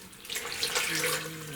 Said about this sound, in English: then I'm going to put in some water